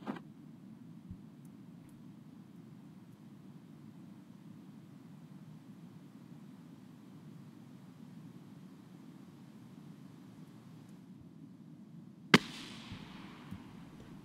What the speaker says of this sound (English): I think that was our rocket stage hitting the ground.